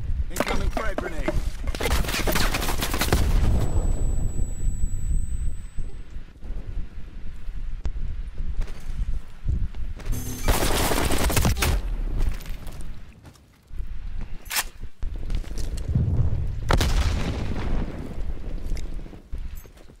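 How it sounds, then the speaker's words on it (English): Frag grenade blasts and gunfire from Call of Duty Cold War, with loud broadband bursts at the start, around ten seconds and near the end, over a continuous rumble of distant battle noise. "Incoming frag grenade."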